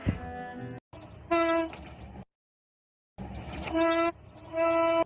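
Train horn sound effect: two loud, sustained horn blasts with a harsh tonal buzz, each following a short rumbling burst, separated by a sudden silent gap, with no talking.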